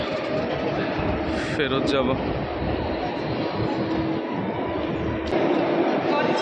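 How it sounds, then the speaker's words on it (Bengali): Train and busy station ambience at London Paddington, a steady rumbling wash of rail noise filling the platform area while a person talks over it throughout. "এটাই আমাদের ট্রেন"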